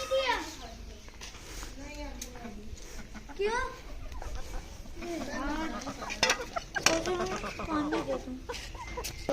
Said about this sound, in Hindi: ये सामने जो है मुर्गे और मुर्गियां बंधी हुई हैं